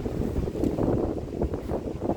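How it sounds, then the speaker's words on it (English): Wind sweeps across a disc golf course, a steady low rumble that gusts against the microphone at moderate loudness, with no talking. "Very windy in here though."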